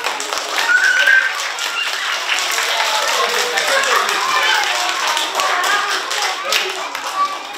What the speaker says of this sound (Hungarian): egy nagy tapsod a mesterre